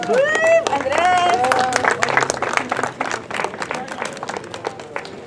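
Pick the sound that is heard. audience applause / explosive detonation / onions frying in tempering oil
audience applause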